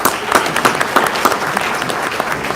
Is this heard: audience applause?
yes